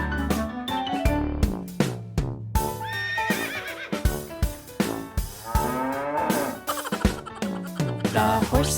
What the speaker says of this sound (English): The horses on the farm say neigh,